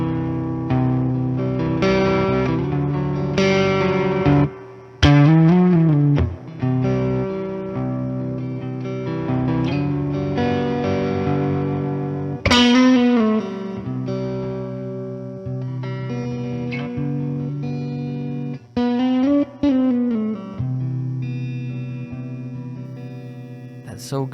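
Electric guitar runs through an EHX Percolator fuzz pedal, a clone of the Harmonic Saturator HP-1 with a silicon transistor, plus reverb and delay, playing loud sustained, gritty chords and bends with washy echoing tails and no talking.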